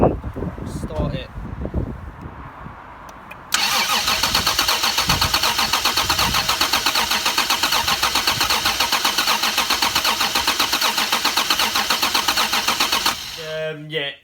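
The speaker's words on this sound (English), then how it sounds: "So I'm going to try attempting to start it." A Toyota Mk3 Supra engine cranks without catching, the starter churning in a fast, even rhythm for about ten seconds after some handling noise, then stopping.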